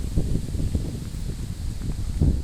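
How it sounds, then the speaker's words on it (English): Wind blows steadily outdoors, buffeting the microphone with low rumbling gusts that swell and fade, moderately loud with no other sounds over it. "it's quite windy today"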